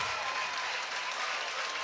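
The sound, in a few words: crowd cheering as students storm basketball court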